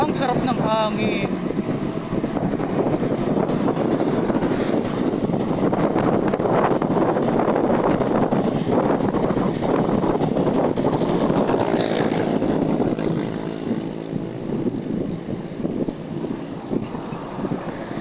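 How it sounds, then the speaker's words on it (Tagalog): Strong wind buffets the microphone while riding along a road, a steady broadband roar that stays loud throughout and eases slightly near the end, with engine-like rumble beneath. "Ang sarap ng hangin."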